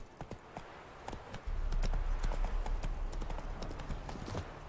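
A horse in Witcher 3: Wild Hunt clip-clops along in quick, steady hoofbeats that grow louder and nearer as it gallops up, heard over faint game ambience.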